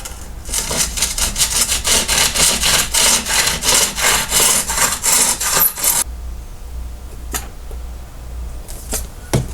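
Rapid back-and-forth strokes of a hand saw biting through a block of wood, steady and close, then the cutting stops and a few faint scrapes follow.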